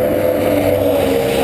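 A jet ski with a four-stroke motor runs at a steady, loud, close drone, with a continuous low hum and a wash of wind and water noise.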